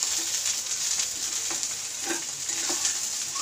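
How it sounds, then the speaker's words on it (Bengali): Eggplant pieces fry in a pan over a high flame, giving a steady close sizzle with a few brief soft stirring sounds. No one speaks. "এটা 5 মিনিট হাই ফ্লেমে, একটু 5 মিনিট একটু বেগুনটাকে একটু ভাজা ফ্রাই করা হোক"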